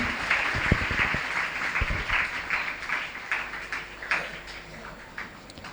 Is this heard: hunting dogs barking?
no